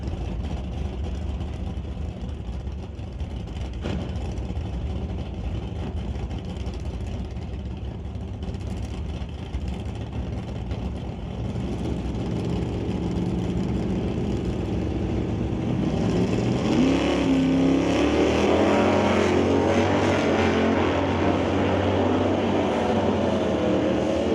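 Old hot rod cars rumble in the distance at a hot rod drag race, then a loud car roars nearer and revs hard, its growl rising and sweeping past over the last few seconds.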